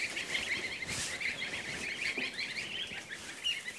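Young chicks and geese on a farm make a dense, continuous chorus of peeping and honking, lively and close, with no talk over it.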